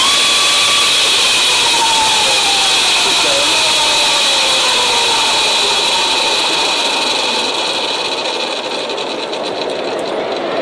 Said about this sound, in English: you'll see how long the wheel continues spinning after I let go of the throttle